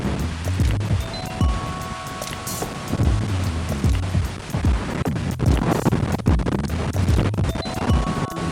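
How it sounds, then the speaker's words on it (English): Strong wind in an outdoor tomato garden, a loud, continuous roar with low buffeting gusts against the microphone and scattered rustling and scraping of plants and handling noises throughout. "I told y'all it was windy out here."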